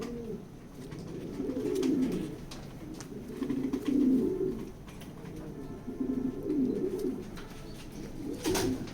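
Racing pigeons in a loft coo in repeated low, rolling phrases, several birds overlapping in steady waves at moderate distance, with a faint background hum and no talk.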